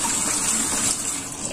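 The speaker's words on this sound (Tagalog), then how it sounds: "So, ito po yung huhugasan natin. Hugasan, gamit ang kamay." Seaweed is washed by hand in water, giving a steady, close rush of splashing and swirling water with no pauses.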